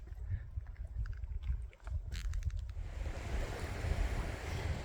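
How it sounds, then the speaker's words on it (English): Several small mountain streams converging along a high Sierra route near Pine Creek, a broad steady rush of flowing water with faint wind noise, growing fuller and louder toward the end. "Bunch of little confluencing little streams and streamlets and stuff."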